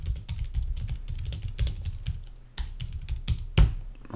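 Typing on a computer keyboard, close and clear: bursts of sharp key clicks in an uneven rhythm, with short pauses and a heavier thump near the end, no talking.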